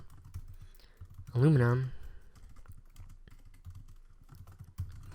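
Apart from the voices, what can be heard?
typing on a computer keyboard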